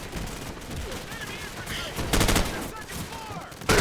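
Call of Duty 4 Modern Warfare gunfire rattles in rapid bursts amid battle noise, loud and continuous, with voices speaking over the fighting.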